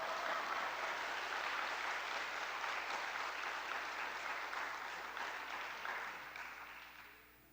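Applause from a congregation at a Sunday church gathering, a steady dense clapping crowd that holds for several seconds and then gradually fades away, heard with no talk over it.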